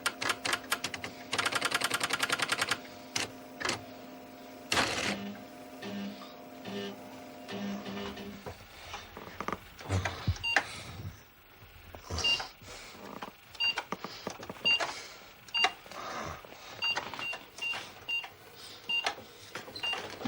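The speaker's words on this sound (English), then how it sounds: "that's a proper printer, isn't it? None of this laser bollocks." An old non-laser printer printing, with a dense mechanical rattle and whir at first, then irregular clacking, ticking and stepping noises of varying loudness through the rest, fairly faint and close.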